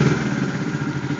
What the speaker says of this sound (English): Got the bike running again.